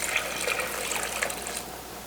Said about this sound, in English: We will add 4 cups of apple juice